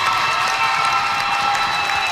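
A Jacksonville high school basketball crowd cheers and applauds steadily in the final minutes of regulation, a dense, continuous roar of clapping and shouting throughout.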